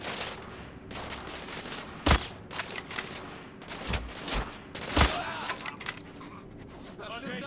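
Sharp gunshots ring out against rebels in The Order: 1886, a few loud cracks spaced irregularly over a busy background of clattering game noise.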